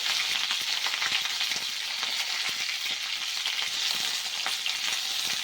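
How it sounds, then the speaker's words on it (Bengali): Flat beans and potatoes with slit green chillies and salt fry in a pan, a loud, continuous crackling sizzle with small popping bursts throughout, close and steady. "ভালো করে একটুখানি ভেজে নেব।"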